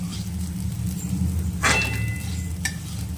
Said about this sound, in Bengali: একটু ভাজবো হলুদটা দেওয়ার পর